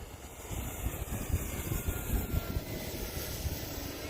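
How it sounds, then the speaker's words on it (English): Faint, distant drone of an Arrows Husky 1800mm RC airplane passing overhead, a steady whooshing hum with a thin high whistle from wind over the plane riding on top, almost jet-like. "the wind hitting the plane is making a whistling sound. Almost sounds like a jet."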